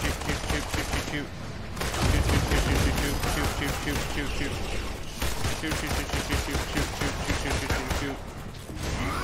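Gunfire in the Marvel's Avengers video game, loud and nearly continuous, with rapid bursts of shots packed densely together and a brief lull between volleys.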